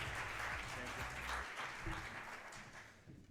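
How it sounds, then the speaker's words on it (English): An audience at an education awards ceremony in Malta breaks into a warm round of applause, with dense, sustained clapping that tapers off toward the end. "Please give him a very warm round of applause"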